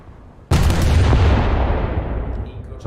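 A warship's naval guns fire in a video game: one loud, sudden salvo blast followed by a long rumbling, crackling decay that slowly fades. No one speaks over it.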